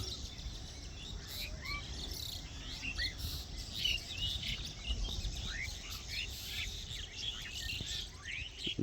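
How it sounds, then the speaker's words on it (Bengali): Myna birds chirp and chatter continuously on a late afternoon, with many overlapping short calls at a moderate distance. A steady insect-like buzz and outdoor ambience run underneath, with no talking. "চারিদিকে কিচির মিচির শব্দ এই পাখিগুলো আপনি চিনে থাকতেও পারেন"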